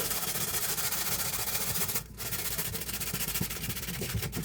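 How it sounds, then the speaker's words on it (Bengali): A metal kadai wok is scrubbed clean by hand, producing close, continuous rough rubbing and scraping strokes with a brief pause midway, and no talking. "এখন আমি হচ্ছে এটাকে খুব সুন্দরভাবে আস্তে আস্তে করে ঘষে নেব"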